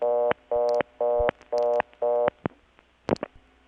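Tones and clicks sound on a 1980 Bell #355 step-by-step telephone exchange in Kent, Connecticut: five evenly spaced buzzing tone bursts, then sharp mechanical clicks and clunks of switching, close and clear.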